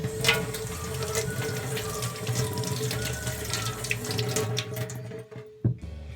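Vegetables are washed under a running kitchen tap, a steady close rush of water with splashes from handling, ending as the flow cuts off near the end.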